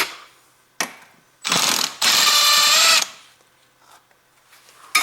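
A ratchet with a 10mm socket and long extension works a plastic screw loose on a BMW E90 3 Series. It gives several short bursts of clicking, then two longer runs of it, close up with pauses between.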